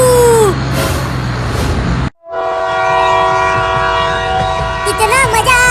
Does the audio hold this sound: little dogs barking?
no